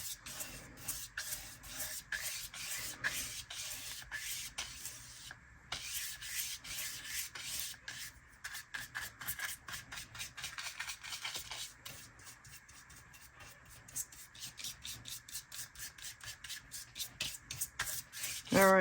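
Rubbing dye onto handmade journal signature pages, a steady rapid brushing and scrubbing of paper that runs close and fairly loud, with brief pauses and no talking.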